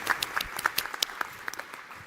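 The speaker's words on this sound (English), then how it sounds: "I just would like to ask you to have a very, very warm applause to our amazing panelists." An audience at an energy efficiency conference claps for the panelists, scattered individual claps forming a moderate, uneven round of applause at a middle distance.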